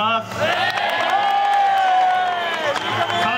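A baseball stadium crowd roars and cheers during a Yokohama DeNA BayStars hero interview, a loud sustained wash of cheering and whoops with an announcer's voice over it.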